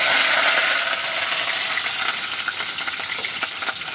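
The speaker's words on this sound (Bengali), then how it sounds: "তেলটা গরম হয়ে গেছে, এইবার আমি ফুলকপিগুলো দিয়ে দেব। ফুলকপিটা ভেজে নেব।" Cauliflower florets hit hot oil and set off a loud, bright, continuous sizzle. It eases slightly as the frying settles, with no voices over it.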